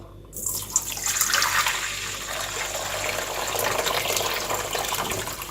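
Vinegar poured over pickled roasted peppers, a continuous close splashing pour that starts abruptly and runs steadily to the end, with no voices.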